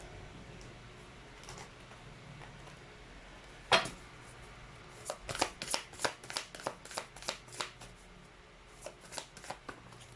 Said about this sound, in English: let's try to pull up more cards here